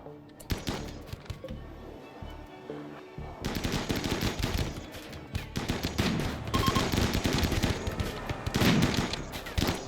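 Rapid bursts of gunfire in the colony game RimWorld, dense machine-gun rattles and overlapping shots building into a continuous fusillade, loud and close with no talking.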